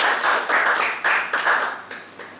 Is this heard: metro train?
no